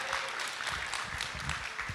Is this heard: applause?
yes